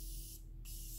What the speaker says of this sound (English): I'm just gonna give my face a quick little spritz.